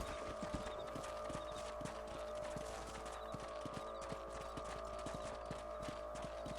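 Horse hooves clip-clop in a steady, even rhythm throughout, a ridden horse in the Red Dead Redemption video game, set against a constant low rumble of game ambience with no talking.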